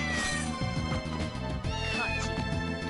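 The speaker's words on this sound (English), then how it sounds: "Yes, I hear you, kitty." A cat meows repeatedly, its drawn-out, pitch-sliding cries rising over a steady musical backing at moderate volume.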